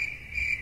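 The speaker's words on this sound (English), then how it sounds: "I have crickets." A short burst of cricket chirping played from a soundboard, a steady high insect trill that is loud and close with no talk over it.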